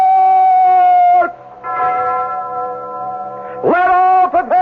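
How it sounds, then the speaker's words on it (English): Alarm bell in a radio drama sound effect, ringing with a loud sustained metallic tone that fades, returns steadily, then strikes again sharply near the end, with no voices. "Ring the alarm bell!"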